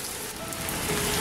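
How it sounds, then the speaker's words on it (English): Rain falls steadily in a dense, even hiss of drops hitting surfaces, close and fairly quiet, with no voices. "Look at that rain, it is wet and kind of loud"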